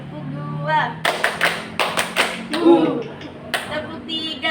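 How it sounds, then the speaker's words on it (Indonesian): A group of schoolchildren clap together in a game, producing a cluster of sharp, uneven handclaps up close, with an adult voice speaking before and between them. "Tepuk 2."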